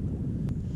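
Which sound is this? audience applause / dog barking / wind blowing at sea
wind blowing at sea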